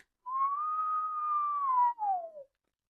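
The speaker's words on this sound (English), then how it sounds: "imagine taking that whistle down so that you can get a lower sound" A single clear whistled tone, held steady for about two seconds, then briefly breaks and glides downward in pitch before stopping.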